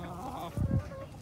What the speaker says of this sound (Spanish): Aquí le estamos mostrando un pollito que yo amarré